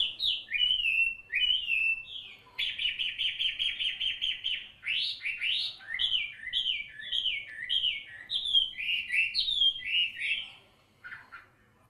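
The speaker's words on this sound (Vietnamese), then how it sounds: "Chim họa mi là loài chim nhỏ, có lông màu nâu vàng, trên mí mắt có vành lông trắng, giọng hót rất trong và cao" A hwamei, or Chinese song thrush, is singing alone. It is a small brown-yellow bird with a white eye ring. Its clear, high whistled phrases repeat in quick, varied bursts, close and steady, then stop near the end.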